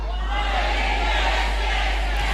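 A large crowd of students and teachers at a district school education appreciation ceremony shouts a school yell together, a dense, sustained roar over a steady low hum.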